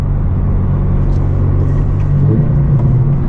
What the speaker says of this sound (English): Do a little downshift and pass him.